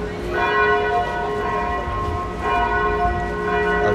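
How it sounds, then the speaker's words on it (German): Church bells of Münster Cathedral ring out loud and close, with steady overlapping peals sustained throughout and no talking. "Als Begrüßung macht er uns schon mal so ein paar Glockenschläge."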